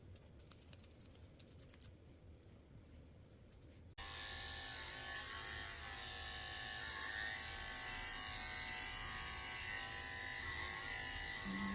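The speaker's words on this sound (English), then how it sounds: "I'm just finishing up shaving around her neck with the 4-blade." An electric clipper with a 4 blade shaves around a Yorkie puppy's neck. After a few seconds of quiet clicking, a loud, steady, close buzz runs continuously to the end.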